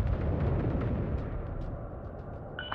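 Space battle explosions pound a destroyer under fire in the Homeworld 3 strategy game, a dense low rumble of overlapping blasts that fades slightly, with a brief bright metallic ping near the end.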